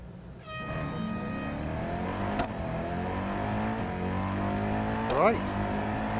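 Race car engines from Real Racing 3 on Suzuka's East Circuit, several motors revving and climbing through gears with whining tones, plus a sharp downshift near the end, loud and steady, with no talking.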